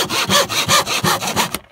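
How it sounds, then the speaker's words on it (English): A tenon saw trims small glued-on wooden pieces held on a bench hook in a quick run of loud, close, rhythmic rasping strokes, about eight in under two seconds, stopping abruptly. "They can just be glued on and trimmed with a tenon saw."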